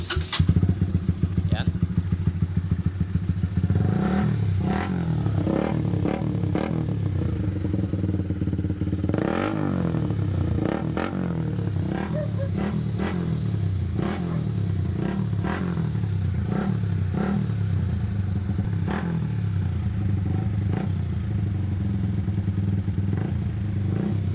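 A Honda Repsol 150 fi motorcycle engine runs at idle with a delayed-response fault after its throttle position sensor was replaced, rising and falling in repeated throttle revs near the listener while someone talks over it.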